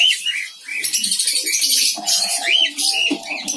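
Cockatiels and their growing chicks in a colony setup, giving bright, close chirps and rising whistled calls in quick bursts, with soft chick cheeping between them.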